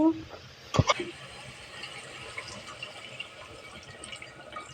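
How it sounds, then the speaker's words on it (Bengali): Water is poured into a pot of simmering chicken curry, a faint splash and trickle heard up close against a quiet kitchen background. "এখন আমরা পুনরায় আবার পানি দেবো"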